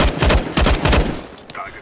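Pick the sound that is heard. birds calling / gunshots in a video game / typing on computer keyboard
gunshots in a video game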